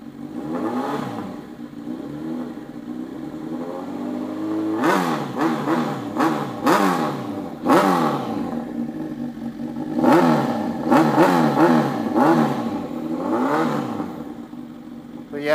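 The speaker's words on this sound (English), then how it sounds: "Now I'll give you all a little bit of rev demonstration." A Honda CBR1000RR sport motorcycle with a TOCE-style exhaust revs repeatedly from idle, each loud, sharp throttle blip rising and falling back, in quick bursts close to the microphone.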